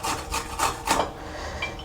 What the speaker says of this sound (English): You just wash the okra and all you do is to grate.